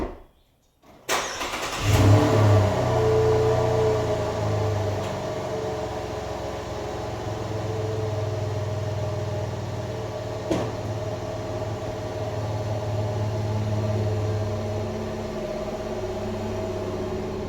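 A 2016 Chevy Colorado 4WD pickup starts off after a door thump, then runs steadily on the road with a constant low engine drone and tire rumble, one sharp knock partway through, no talking.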